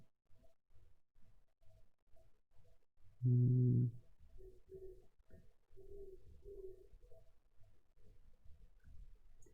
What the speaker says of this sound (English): I think I hear an owl